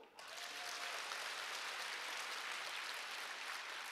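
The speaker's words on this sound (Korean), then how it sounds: "1억 불. 박수." A large audience bursts into applause at a business success talk, with dense, sustained clapping from many people that starts abruptly and holds steady, heard from a distance at low level.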